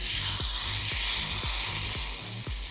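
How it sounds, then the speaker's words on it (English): Hot oil sizzles steadily as it is poured over chopped scallions to make Vietnamese scallion oil. A continuous bubbling hiss runs close and loud throughout, with faint regular clicks beneath it. "It's going to bubble and sizzle."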